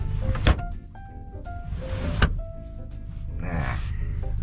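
A Toyota Innova Venturer's car door is slammed shut twice, giving two loud, sharp thuds a couple of seconds apart, with quieter mechanical clicks and rustling between them.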